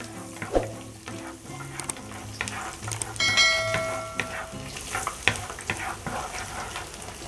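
Garlic fries in a pan with a continuous crackling sizzle, while a utensil stirs it in occasional sharp clinks and a brief ringing metallic tone rises midway.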